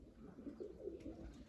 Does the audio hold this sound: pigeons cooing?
yes